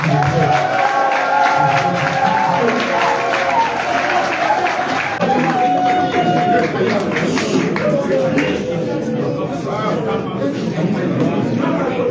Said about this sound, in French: Le président Alissa Ikane, que je voudrais qu'on applaudisse une fois de plus.